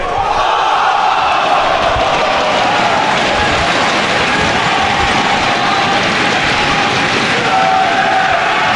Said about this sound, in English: This crowd to their feet.